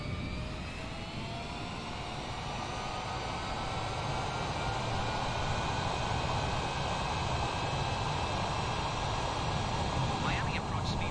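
An airliner touches down at Miami airport amid a steady, rushing jet-engine roar with faint whining tones, a voice speaking over it throughout.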